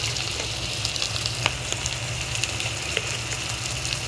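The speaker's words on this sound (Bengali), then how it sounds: "ভালো করে মশলাটা তেলের ভিতরে কিছুক্ষণ ভেজে দিচ্ছি।" Chili, turmeric and coriander powders fry in hot oil for a chital fish kofta malai curry, making a dense, steady close-up sizzle with faint crackles throughout and no talking.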